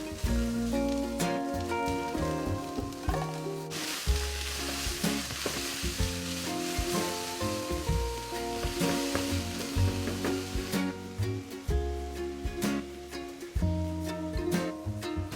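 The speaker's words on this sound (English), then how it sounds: "Chop onion and garlic goes in." Chopped onion and garlic hit a hot oiled pan while cooking steak with creamy mushrooms, crackling in a loud, continuous sizzle with scattered pops, heard close under steady background music.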